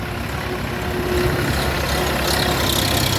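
An all-wheel-drive Bulat 244 tractor with a 140 rotary tiller idles during loading at a dealer yard, a steady low rumbling drone with a faint hum, close and continuous for a few seconds.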